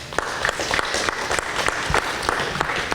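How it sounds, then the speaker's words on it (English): Morning audience applauding a North Dakota Highway Patrol trooper being honored, a steady, moderately loud round of clapping with individual hand claps standing out, no speech over it. "So let's give him a big round of applause here this morning."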